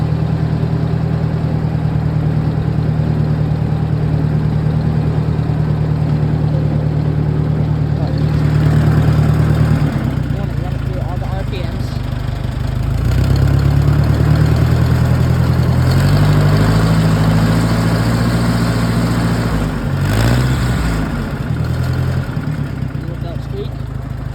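A used tractor engine idles with a loud, slightly uneven low rumble, then rises as the throttle opens and settles again, running continuously and close by.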